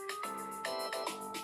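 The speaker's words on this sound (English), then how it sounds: "Hold on, I have a phone call." Incoming-call phone ringtone, a repeating melodic electronic tone in short bursts, clear and fairly close, with no voices.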